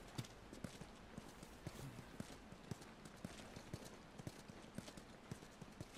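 A horse's hooves clip-clopping at a steady walking pace in The Last of Us, with quiet, even hoofbeats over soft background ambience.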